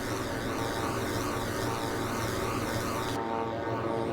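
A small seaplane's propeller engine droning steadily while climbing in flight in Microsoft Flight Simulator 2024, over Phi Phi Don toward Pileh Bay, a continuous buzzing hum with a slow wavering pulse, no talk heard.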